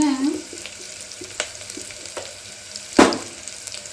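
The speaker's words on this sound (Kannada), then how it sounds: "ಇದು ನೀಟಾಗಿ ಫ್ರೈ ಆಗ್ತಿದೆ ಅಲ್ವಾ?" Carrots, beans and other vegetables fry in a pan for pudina vegetable rice, a soft, continuous sizzle broken by a few light taps and a louder clatter near the end.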